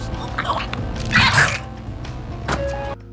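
Brutal bone-crunching sound effect from a zombie TV drama, wet snapping and crunching bursts with a louder crunch near the middle and another sharp crack toward the end.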